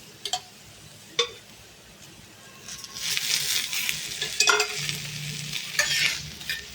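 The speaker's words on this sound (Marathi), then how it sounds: "टोमॅटो टाकून घेते" Tomatoes frying in a little oil in a pan for shahi paneer, a soft crackling sizzle that grows louder midway, with a few sharp stirring knocks near the start and no talking.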